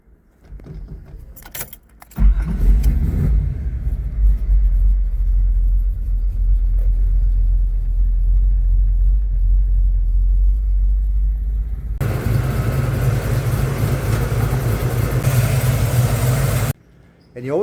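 A carbureted car engine idles while warming up toward operating temperature before tuning, starting with a jangle of keys, then a steady, close, low rumble that grows rougher near the end before cutting off.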